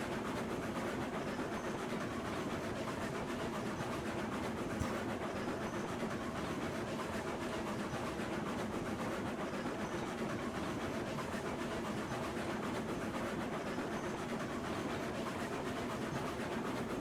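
A steam-era freight train in the railroad simulation game Railroads Online rolls downhill on rails, giving a steady, dense rumble and rolling clatter with no breaks for the whole stretch, moderately quiet with no voices.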